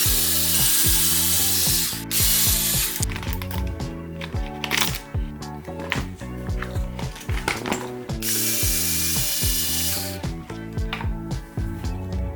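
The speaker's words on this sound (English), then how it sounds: "First, wheels off, and then the whole front assembly has to come out." Tools at work taking the wheels and whole front assembly off a Rival MT10 RC monster truck, with steady ratcheting clicks and mechanical rattles running through most of the stretch, close and fairly loud, no talking.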